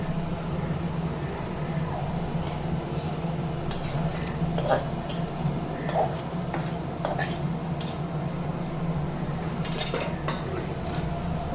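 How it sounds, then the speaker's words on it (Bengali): Chicken kosha, a thick spiced chicken curry, goes into a pot of khichudi with fried potatoes: scattered metallic clinks and scrapes of a spoon against the pot over a steady low kitchen hum, with no talk. "চিকেন কষাটা দেখুন আমি হাঁড়ির মধ্যে পুরোটাই ঢেলে দেবো।"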